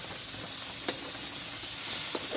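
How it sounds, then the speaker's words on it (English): Meat for adobo sizzles steadily in a frying pan, a dense, close hiss that runs without a break, with a couple of faint clinks of stirring and no voices. "we're gonna fry it till it's almost done"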